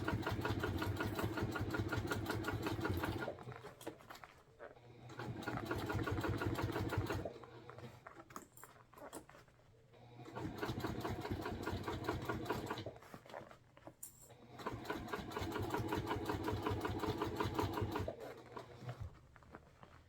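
A sewing machine stitching across a bag seam: a rapid mechanical patter in several bursts of two to three seconds, separated by short pauses, close and fairly quiet.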